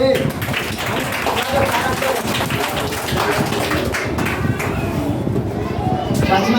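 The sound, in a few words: studio audience applause for correct quiz answer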